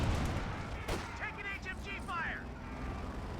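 Gunfire and impacts in Company of Heroes 2, a real-time strategy battle between US and German forces, with one sharp crack among dense rumbling combat noise while a commentator talks over it.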